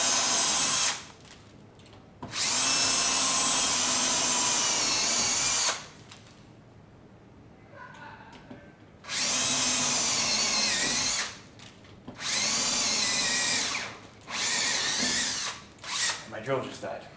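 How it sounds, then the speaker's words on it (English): A cordless drill whirs in several long, high-pitched bursts with short pauses between, pre-drilling holes in a door, close by, with brief quieter handling noises in the gaps. "I'm going to go ahead and pre-drill."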